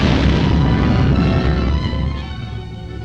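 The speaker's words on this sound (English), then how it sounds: "There's a concussion from the explosion." A large explosion from a 1941 film serial, a loud sustained boom with rumbling debris that slowly fades over about three seconds.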